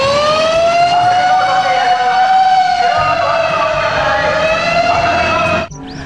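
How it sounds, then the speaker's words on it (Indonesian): A toy fire truck blares a loud electronic wailing siren up close, the pitch sweeping slowly up and down for several seconds before it cuts off abruptly with a click. "Di sini ada mobil pemadam kebakaran."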